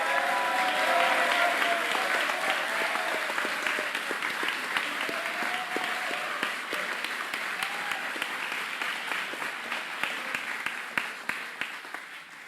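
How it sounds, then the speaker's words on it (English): Sustained applause from players and guests at a basketball closing ceremony, honoring the coaches, with dense steady clapping that gradually thins and tapers toward the end. "please give a round of applause to all of your coaches"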